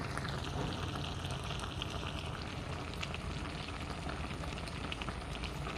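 Thai pangasius fish curry with pickled bamboo shoots bubbling at a steady boil in a pot, a continuous close, fairly quiet sizzle and bubble with no talking.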